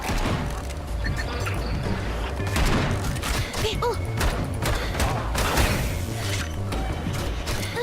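Turret gunfire in the Bunker Punks video game: dense, rapid bursts of shots and impacts crackle throughout, loud and close, mixed with thuds and mechanical game effects.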